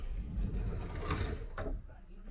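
Several drawers in a rented Rhodes holiday room slide open and shut in quick succession, a couple of soft scraping knocks close by over steady low room noise and faint talk.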